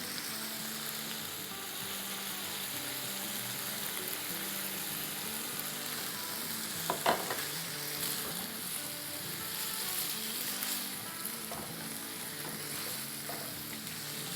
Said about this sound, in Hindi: 2 टेबलस्पून ग्रीन शिमला मिर्च है और 2 टेबलस्पून रेड है, ये डाल देते हैं